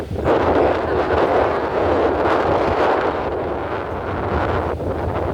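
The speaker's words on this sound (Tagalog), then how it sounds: "Yung hangin na to guys" Strong wind in Singapore buffets the microphone in a continuous low roar, loud and unbroken for several seconds, with a slight dip near the end.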